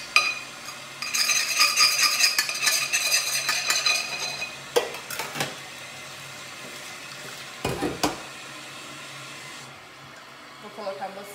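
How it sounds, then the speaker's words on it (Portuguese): Dishes are washed in a home kitchen at night in England, with running water and the clink of plates and cutlery. Busy scraping and clattering come first, then separate knocks, then a quieter stretch. "Vamos lavar essa louça rapidinho."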